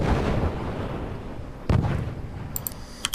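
Mortar shots from the game Forts strike armor: a rumbling, boomy impact rolls at the start, then a sharp blast around the middle, followed by small crackling pops and high metallic pings.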